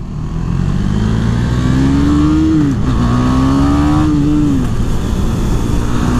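A 2018 KTM Duke 390 single-cylinder motorcycle engine revs up loud and close, climbing steadily in pitch. It dips briefly at a gear change, then climbs again before easing off.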